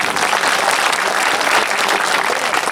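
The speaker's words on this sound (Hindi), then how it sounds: "पूरे सदन से इन भाइयों के लिए आप तालियां बजा दीजिए।" Dense, steady applause from a large audience filling a hall at a public religious gathering in Bahadurganj, Patna, continuous clapping with no gaps, loud and close.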